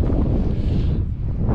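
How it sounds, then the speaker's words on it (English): Strong gusts at a boat marina buffet the microphone with loud, close, low rumbling wind noise that continues without a break. "Man, it's windy today."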